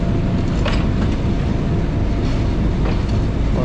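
The Millat Express passenger train runs on the rails between Lala Musa and Sargodha, heard from the cab as a loud, steady rumble with faint rhythmic clatter of wheels over rail joints.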